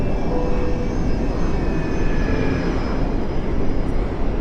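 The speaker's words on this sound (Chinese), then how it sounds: "感觉飞机声音变小了吧？" Airliner engines droning steadily during climb toward cruising altitude, a loud, even cabin roar with faint high whines, continuous throughout.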